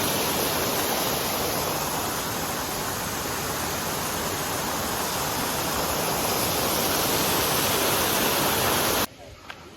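Water flows in a steady, broad rushing hiss in Brașov, Romania, cutting off abruptly near the end and leaving quieter background sounds.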